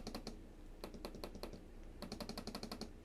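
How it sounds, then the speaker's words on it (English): Crisp clicks from the glass trackpad of a REDMAGIC Titan 16 Pro laptop, pressed in quick uneven bursts with short pauses between, close and clear with nothing else behind them. "I really love the clicks of this trackpad."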